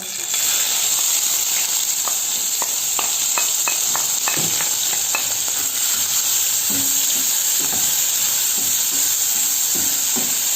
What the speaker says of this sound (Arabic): حطيت معه شوية زيت، راح احط بصل. عندي هون بصلة صغيرة، وعندي نص قرن فليفلة خضراء ونص قرن فليفلة حمراء، راح احطهم مع بعضهم.